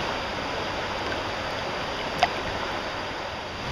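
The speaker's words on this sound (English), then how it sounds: "enjoy the sound of the water flowing in the background on this beautiful June day here in Woodstock" Water flows steadily in a stream on a June day in Woodstock, a constant broad rushing hiss with one faint brief tick partway through and no voices.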